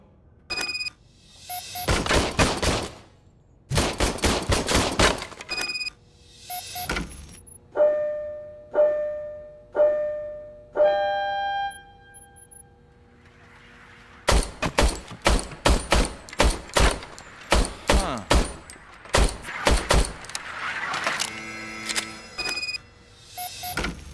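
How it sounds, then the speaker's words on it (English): An old malfunctioning service gun in RoboCop: Rogue City fires in loud, sharp bursts, rapid repeated shots separated by pauses, with metallic clicks and mechanical tones between volleys. "I was issued this old gun and serviced it according to the manual. I will try it out."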